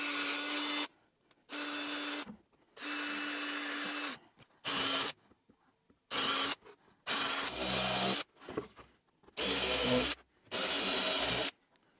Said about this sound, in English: just run a few pilot holes for screws in here and screw that down